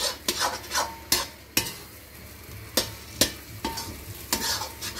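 Semolina halwa fried in plenty of ghee in a kadai hisses steadily while a spoon stirs it, with about a dozen sharp scrapes and knocks against the pan at an uneven pace.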